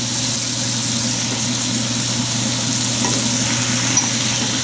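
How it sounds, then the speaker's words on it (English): Diced tomatoes, four of them, go into a pot of simmering Italian fish stew, giving a steady, loud, even sizzle with a low background hum and no talking. "So at this point we want to add the tomatoes"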